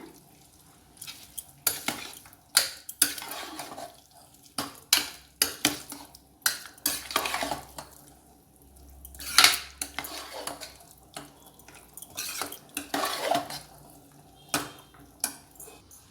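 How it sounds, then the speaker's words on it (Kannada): Moong dal avalakki with ghee stirred in a metal pan, a spoon scraping and clanking against the pan in irregular close strokes, with brief pauses between bursts. "ಇವಾಗ ಒಂದು ಸತಿ ಚೆನ್ನಾಗಿ ಮಿಕ್ಸ್ ಮಾಡ್ಕೊಳ್ಳೋಣ ಇದನ್ನು"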